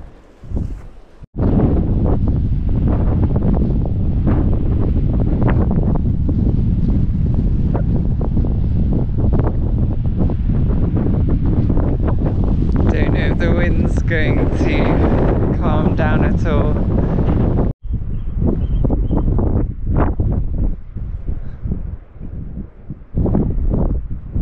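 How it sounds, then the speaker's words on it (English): Strong wind on Bryher, Isles of Scilly, buffets the microphone in a loud, continuous roar, with brief gaps and gusts, and waves faintly audible underneath. "It's so windy that it's like cold."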